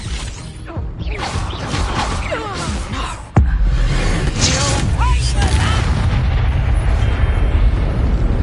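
A Confringo spell in a Hogwarts video game detonates with a sudden loud blast, then a dense roaring rumble that carries on steadily, with combat voices and clashing effects just before.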